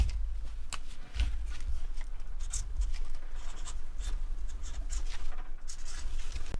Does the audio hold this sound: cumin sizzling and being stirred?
no